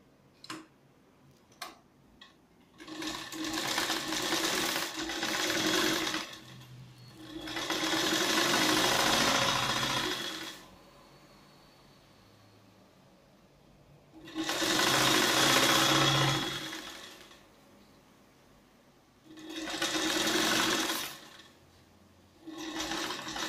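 A sewing machine stitches the lining of a katori blouse, putting in a hem tuck with a 1.5-inch margin. It runs in four sustained, fairly loud whirring bursts of a few seconds each, with short quiet pauses between them.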